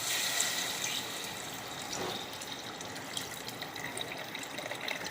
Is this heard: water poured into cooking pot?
yes